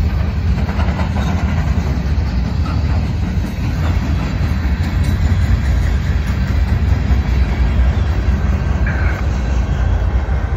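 A train rumbles past loudly and steadily, a heavy low roar with faint rattling clatter throughout, close and continuous with no voices.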